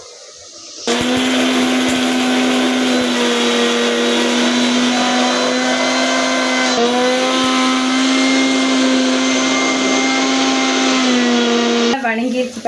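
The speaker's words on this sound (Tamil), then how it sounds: "பட்டை, கிராம்பு, இது அன்னாச்சி பூவு, அப்புறம் வரமிளகா, பூண்டு, இஞ்சி எல்லாம் போட்டு நானே தயார் பண்ணி மசாலா அரைக்க போகிறேன்" Electric mixer grinder whirring steadily and loudly as it grinds a masala of cinnamon, clove, star anise, dried red chili, garlic and ginger, with a high tonal whine that starts abruptly, shifts pitch briefly midway and cuts off at the end.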